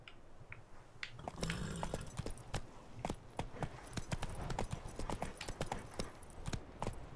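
Horse hooves galloping in the video game The Witcher 3: Wild Hunt, a rapid, fairly close clip-clop rhythm of hoofbeats continuing steadily, with no speech.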